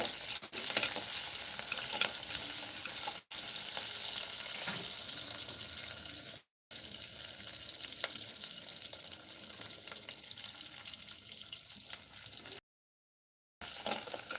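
Onions fry and sizzle steadily in a pan as they are stirred while cooking a South Indian okra (vendakkai) kuzhambu, with scraping spoon strokes and brief pauses in the sound.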